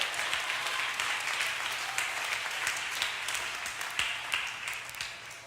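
A church congregation applauds together in a steady, dense wash of clapping that holds for several seconds, with faint voices mixed in underneath.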